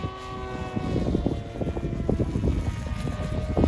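A gas-powered model airplane coming in to land, its small engine buzzing with a rough, pulsing drone that wavers steadily throughout, moderately loud with no voices.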